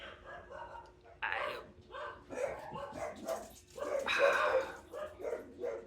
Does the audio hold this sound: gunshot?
no